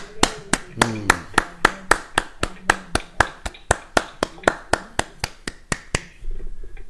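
A church congregation claps in unison, sharp, loud claps in a steady quick rhythm, about three per second, lasting several seconds. A voice briefly rises over the first claps before the clapping stops.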